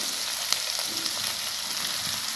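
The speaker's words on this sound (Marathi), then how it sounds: "आता आपल्या मिरच्या छान असे तळलेत." Green chillies fry in hot tempering oil for sabudana khichdi, giving a steady, close sizzle and crackle with faint stirring and no voices.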